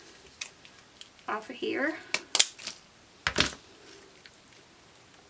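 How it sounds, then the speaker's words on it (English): Scissors cutting pieces off artificial greenery sprigs for an embroidery hoop wreath, heard as a few sharp close snips and some rustling while a person speaks briefly. "So I'm going to cut a few pieces"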